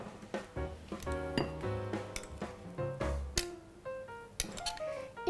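Food is laid out in a dish for a dessert made with fruit such as apples or pears, giving a string of close clinks and taps of utensils against glass or ceramic with no voices.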